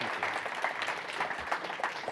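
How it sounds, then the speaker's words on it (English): Audience applause for presenters at a data science festival talk, a steady wash of clapping from a crowd that holds at an even level for the whole two seconds, with no voices on top. "Can we have a round of applause for our presenters"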